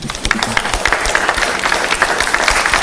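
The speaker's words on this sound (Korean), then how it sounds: "수고하신 후보님께 박수 부탁드리겠습니다" A political party gathering bursts into loud, dense crowd applause for a candidate, a brief close wash of many hands clapping at once.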